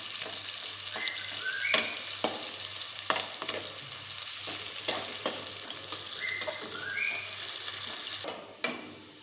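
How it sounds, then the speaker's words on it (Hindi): Onions lightly browning in hot oil for tahari, a constant crackling sizzle broken by sharp stirring clatters against the pot, short squeaky scrapes and a sound like running water near the end. "इस प्याज को हम हल्का सा ब्राउन करेंगे"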